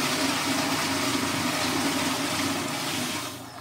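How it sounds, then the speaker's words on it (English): A tankless toilet with a flush valve plumbed straight to the water line releases a steady, loud rush of water that holds for several seconds and then begins to fade. "this valve in here opens up and lets the water flow through and flushes that toilet"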